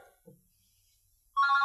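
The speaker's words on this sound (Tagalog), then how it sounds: "Adaw mauawag iti telepono, boss." A telephone starts ringing loudly near the end, a steady electronic ringtone that cuts in after a near-silent stretch, with a faint murmur of voices at the start.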